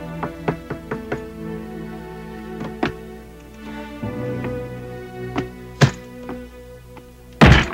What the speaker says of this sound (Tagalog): Rosita, buksan mo tong pinto